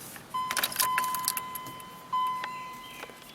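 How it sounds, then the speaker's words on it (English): Ignition key turned in a Chevy Caprice with a freshly installed sunroof, giving a brief rattle and clicks of keys followed by a steady electronic chime tone that stops, then another click, close and fairly quiet. "Let me turn the ignition on."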